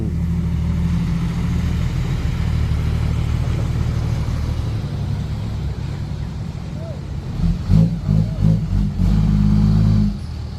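An engine rumbles steadily, then revs up in several loud surges near the end, with a faint voice underneath.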